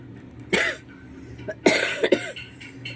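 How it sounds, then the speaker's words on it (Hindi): A person indoors at home coughs two or three times in close, sharp bursts, with quieter throat noises between them and no talking. "दवाई ले लो खांसण लग रहा"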